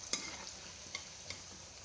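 Cumin seeds and coconut fry in a pan for a bitter gourd curry, giving a soft, low sizzle. A few light clinks from stirring punctuate it, all quiet and close.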